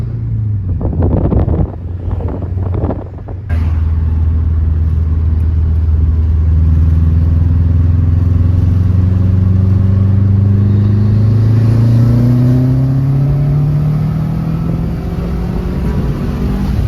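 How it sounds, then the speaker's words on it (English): A Subaru WRX engine pulls at wide open throttle in third gear, its loud, close drone climbing steadily in pitch after a short burst of wind noise at the start. "we are going to go out and do our first wide open throttle pull in third gear"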